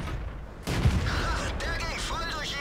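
Tank cannon fire in the video game World of Tanks from a Marder 2: a sudden heavy blast followed by a rumbling, ringing tail, with a faint mechanical clank and other game effects underneath.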